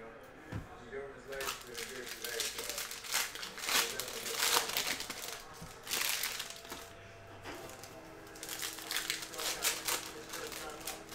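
A Panini Prizm basketball card multi-pack in cello wrap is torn open and handled up close, a steady run of crinkling, tearing plastic and crumpling bursts with brief pauses between.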